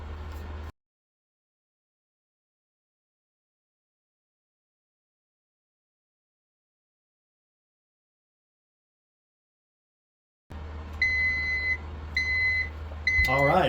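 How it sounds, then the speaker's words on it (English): A few short, high electronic beeps from a Punehod direct-to-film printer signalling it is ready repeat in an even rhythm over a low hum and background noise, following a stretch of silence. "it makes a beep noise with a red light, you know, like an alarm, and it's ready to go"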